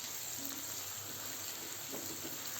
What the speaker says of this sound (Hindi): फुल फ्लेम पर पका रहे हैं हम।